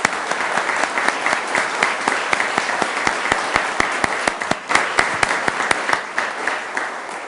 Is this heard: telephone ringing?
no